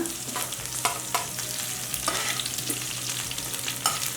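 Curry leaves frying and stirred in oil with capsicum for raw mango chitranna: a continuous close sizzle broken by repeated sharp scrapes and clatters of the spoon against the pan, with no talking.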